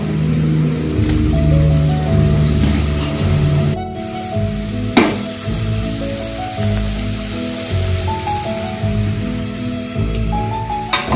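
Ginger garlic paste and turmeric fry in a pan for a village-style goat head curry, giving a steady, close sizzle throughout, with faint tonal background sounds running underneath.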